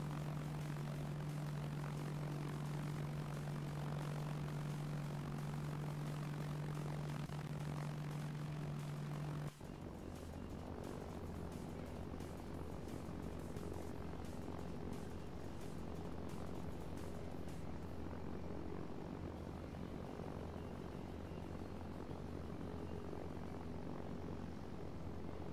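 A helicopter in the video game Arma 3 drones steadily with a constant rotor and engine hum, shifting partway through to a different, airier engine tone that holds to the end.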